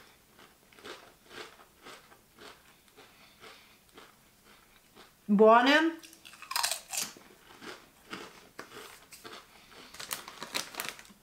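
Spiced yellow corn and cheese chips give one sharp, loud crunching bite near the middle, set between stretches of quiet talk.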